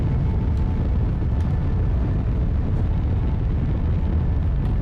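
A rocket in flight in the video game Kerbal Space Program 2, heard as a loud, continuous, broadband engine roar with a steady rumble and no breaks.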